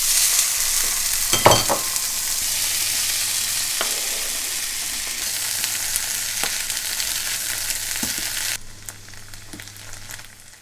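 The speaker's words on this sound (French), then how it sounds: "je fais désormais cuire mes champignons et mes petits pois à la poêle" Mushrooms and peas fry in a pan with a loud, even sizzling hiss and a few utensil knocks, the frying dropping away sharply near the end.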